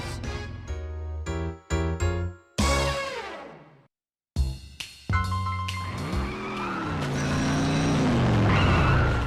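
A cartoon car racing and skidding in The Simpsons: Road Rage video game, with loud tire squeals, sliding pitch sweeps and engine tones, a brief silent gap, then a long rising engine drone.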